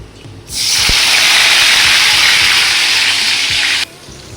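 Tomatoes hit hot oil spiced with dried chili and five-spice tempering, bursting into a loud, steady sizzle that holds for about three seconds and then cuts off sharply, with no voices over it.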